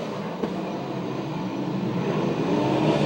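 USAC/CRA sprint cars race around the Santa Maria, California track, their engines producing a continuous loud roar that swells slightly as the pack passes.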